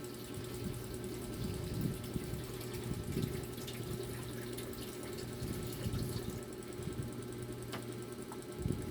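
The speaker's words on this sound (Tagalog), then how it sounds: "Lagyan natin ng tubig" Water poured from a tap or container into a pot of large ears of corn for boiling, a steady splashing, filling rush close by that runs the whole time with small drips and clinks, no talking.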